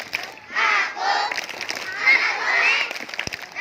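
A group of schoolchildren chants the tepuk anak soleh together in loud, rhythmic shouted phrases with scattered claps mixed in, close and echoing in a hall.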